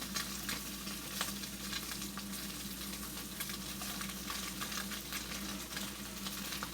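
Sandwiches fry in a pan with a soft, steady sizzle and light crackle. Faint spatula scrapes and taps sound now and then, fairly quiet and without voices.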